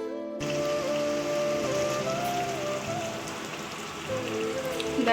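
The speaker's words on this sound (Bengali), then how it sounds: "দেখো এখানে হচ্ছে চিকেন কষা আর এখানে হচ্ছে বরবটি" Chicken cooks with spices in a hot pan, giving a dense, continuous sizzle and crackle close by, steady from start to finish with no talking.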